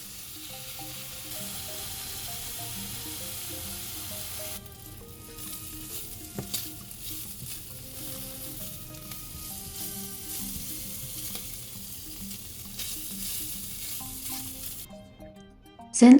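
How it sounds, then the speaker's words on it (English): Bacon frying in a dry pan until golden and crisp, a steady close sizzle with small crackles and faint stirring scrapes, no voices. "Now I fry the bacon in a dry pan until it's golden and crispy."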